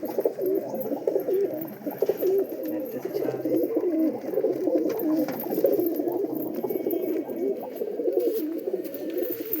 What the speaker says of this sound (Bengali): আবলুক ম্যাকডাস পায়রা আছে একটা